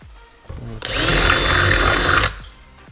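A power drill with a 3/8 bit bores a hole in a 2016-2018 Camaro SS body for a splitter extension, a single close whirring burst lasting over a second, with a voice briefly before and after.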